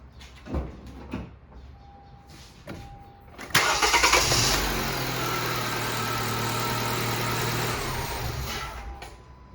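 A car with a dead battery, jump-started using a Solvtin S6 Pro jump starter, gives a few clicks and thumps, then cranks and fires into a loud, steady idle that runs on close by.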